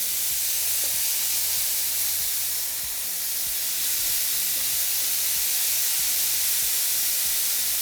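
Steak sizzles steadily in a skillet for chipotle steak quesadillas, a constant loud hiss with faint low clatter underneath.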